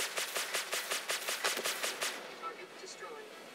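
Rapid laser gun fire from the ANVL Gladiator game, a fast regular train of about a dozen bright zapping shots over two seconds, then fading into a softer lingering tail.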